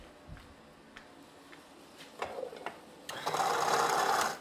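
Coffee beans ground in a coffee grinder, a few scattered clicks and short whirs building to a loud, steady grinding burst near the end, heard alone.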